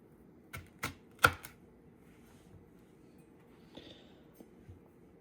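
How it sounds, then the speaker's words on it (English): A knife slicing a leek into little rings on a cutting board, three or four quick sharp chops close by, then quieter scattered taps over a hushed background. "we're gonna just cut it up into little rings now."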